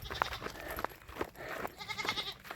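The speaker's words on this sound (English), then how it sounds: "there's a whole lot of goats up on the rock" Goats bleat from a herd perched on rocks outdoors, several short cries overlapping at close to mid range amid faint outdoor background noise.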